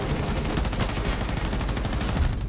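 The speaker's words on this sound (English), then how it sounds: "I shot him in the butt" Rapid bursts of automatic gunfire from a Rainbow Six Siege match, loud and dense, cracking repeatedly for the whole stretch with no pause.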